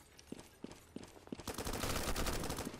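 An AUG rifle firing in the Roblox game Blackhawk Rescue Mission 5: four spaced single shots, then a loud rapid automatic burst that runs to the end.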